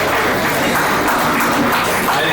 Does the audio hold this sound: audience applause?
yes